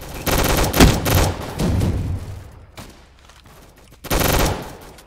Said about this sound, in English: They're actually, like, strategically doing their mortar strikes, dude.